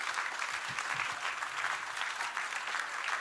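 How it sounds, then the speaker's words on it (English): Quiet, steady applause from an audience at a national grand final, a dense wash of clapping lasting a few seconds, with a brief low voice murmur early on. "Can we please give these guys a massive round of applause?"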